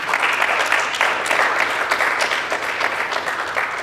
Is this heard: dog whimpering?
no